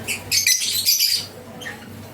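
Birds used to people squawk and chatter in a couple of loud, close bursts, followed by a fainter call, with a low hum underneath.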